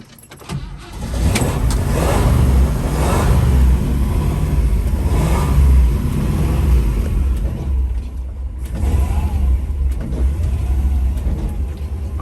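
A 1957 Chevrolet Bel Air V8 idles with a steady, deep rumble close by, pulsing and swelling slightly through the run with no talk over it.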